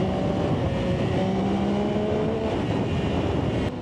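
Yamaha XSR900GP motorcycle engine running steadily up close, a continuous loud droning hum with harmonic tones under heavy wind rush.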